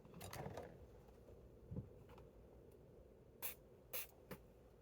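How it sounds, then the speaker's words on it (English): A few short, quiet spritzes from a makeup setting spray bottle, separated by pauses, against low background noise. "I'm gonna use some setting spray to spray it"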